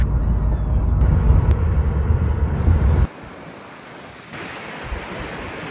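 Strong sandstorm wind roars as loud, dense rumbling buffeting against the microphone for about three seconds, then drops to a quieter, steadier rushing hiss.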